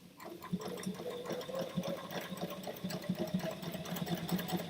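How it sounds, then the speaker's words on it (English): A sewing machine top stitches through many thick layers of fabric, running steadily with a rapid mechanical needle rhythm, close and fairly loud, with no talk over it. "Now I have to concentrate for a second because I'm top stitching."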